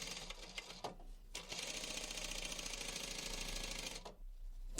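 A sewing machine stitching a zipper onto a box cushion cover, a few short bursts and then a long steady run of fast mechanical whirring, close up and fairly quiet.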